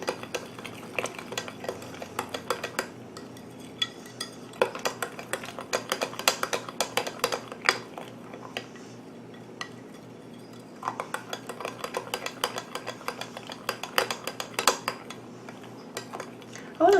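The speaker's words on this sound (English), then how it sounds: "we're gonna add 2 packets of our hot chocolate mix. We'll give them a stir" Hot chocolate mix is stirred into cake batter in a bowl, giving soft, irregular scraping and light clinks of a utensil against the dish, quiet and close, with brief pauses between bursts of stirring.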